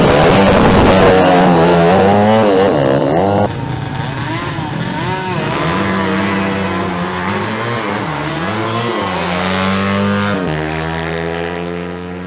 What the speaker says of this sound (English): a duel between Juan Canales on his Yamaha RX and Fernando Ortega on his AKT NKD CG 250.